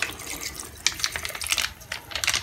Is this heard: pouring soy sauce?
yes